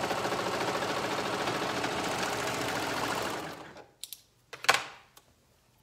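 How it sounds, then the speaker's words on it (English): A sewing machine stitches a side seam on a short garment, a steady close whirring buzz for about three and a half seconds, then it winds down into a few sharp clicks and clunks. "there's one side seam sewn up"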